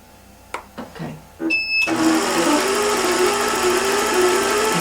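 After a few clicks and knocks, a home sewing machine starts up and stitches in a steady, loud mechanical whir, its motor and needle action running continuously with a slight rattle from vibration.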